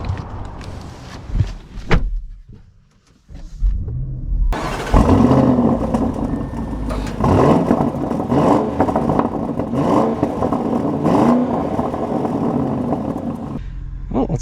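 A 2024 Audi SQ7, fully loaded, starts up and pulls away, its engine note rising into a steady drive with cabin whir, following a few brief thumps and a short quiet gap.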